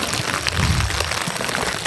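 Rain falling on a farm in rural Mindoro, a steady hiss of drops pattering on surfaces, close and even throughout with no pauses.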